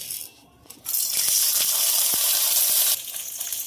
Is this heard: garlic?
yes